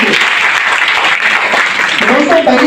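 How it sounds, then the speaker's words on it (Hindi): A seminar audience breaks into loud, dense applause that goes on throughout. "अपने लिए ताली, जबरदस्त ताली बजा दीजिए।"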